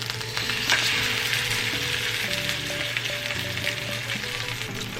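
Sea bass fillet frying in a hot pan, giving a steady close sizzle and crackle with occasional stirring or scraping, no talking.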